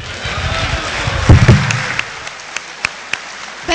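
A conference audience claps for Dr. Yumkela at a plenary session, a short burst of applause that swells briefly and then thins into scattered claps.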